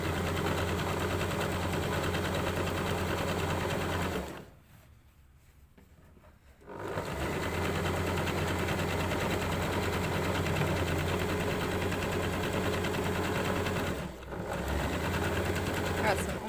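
A sewing machine runs steadily stitching a fabric bag, its motor whirring loud and continuous, stopping briefly once for a couple of seconds at a corner and dipping again near the end.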